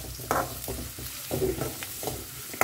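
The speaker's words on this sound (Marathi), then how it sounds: "सो कांदे घालून जस्ट आमकां 1-2 मिनटां एका बरें फ्राय करून घेवंक जाय" Onions frying in a pan, a low sizzle broken by repeated stirring scrapes and knocks at an uneven rhythm, close and fairly quiet.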